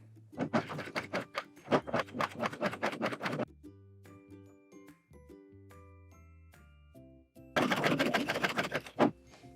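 A Husqvarna Viking coverstitch machine hemming fabric runs in fast, loud stitching bursts, stops for a stretch of quiet clicks and tones, then starts again, close and clear.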